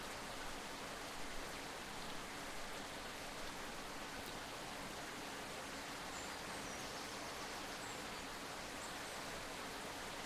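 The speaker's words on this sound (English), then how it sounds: "We've got the rain that we've been promised is now here." Steady rain pours down in the Tower Simulator 3 airport control game, a dense, even hiss that holds constant and fairly faint throughout with no voices.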